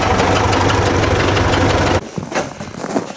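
A tractor engine idles close by with a steady, throbbing low rumble and rhythmic knocking, then cuts off abruptly partway through, leaving quieter rustling and handling noises.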